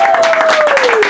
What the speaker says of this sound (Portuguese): Uma salva de palmas para Rony Von